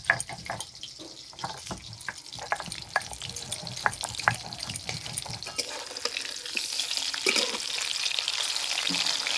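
Live snakehead (shol) fish fries in a pan for a village-style Bengali dish, with scattered spatula clicks and crackles over a soft sizzle that swells into a louder, steady hiss.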